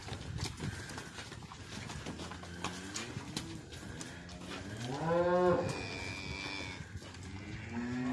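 Cattle penned in a yard, cows with heifer calves, let out a drawn-out moo that rises and falls near the middle, amid quieter shuffling and scattered hoof sounds nearby.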